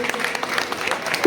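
Audience clapping at a school guest-welcome ceremony, a steady patter of many hands filling the moment, with voices faintly mixed in beneath it.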